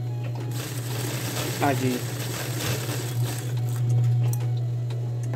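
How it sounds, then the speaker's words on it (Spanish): A sewing machine runs a simple seam along the folded edge of a child's dress sleeve, giving a steady mechanical hum throughout while someone speaks over it. "en la parte plana voy a doblar 5 milímetros y vuelvo a doblar. Y voy a pasar una costura sencilla"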